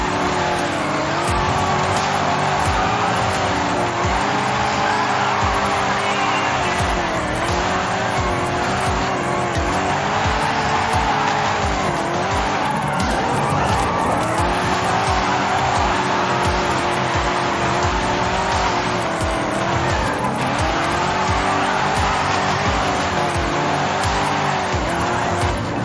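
Rear-wheel-drive Forza Horizon 5 drift car with a 6.2-litre V8 making 750 bhp and custom camber, roaring continuously with rising and falling revs and long tire squeals through repeated drifts, loud and close.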